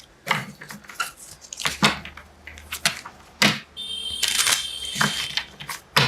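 Tarot cards being shuffled by hand during a reading, a series of crisp riffling and snapping bursts up close, with one longer, denser flurry of card flutter in the middle.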